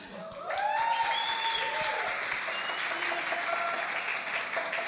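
Church congregation breaking into applause during a live worship service, a steady wash of clapping that swells quickly and holds, with voices and a few cheers mixed in.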